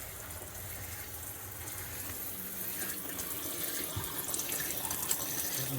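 Water runs steadily from a newly installed RV kitchen faucet into the sink, a continuous close hiss and splash that holds even and unbroken from start to finish.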